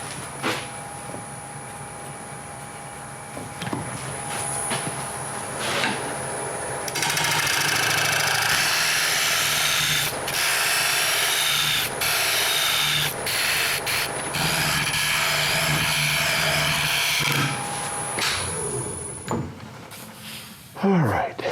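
A wood lathe spins a piece of mulberry at 800 RPM, a sustained close whirring hum with a high whine, swelling louder midway as a tool scrapes and rubs the turning wood, then stopping near the end.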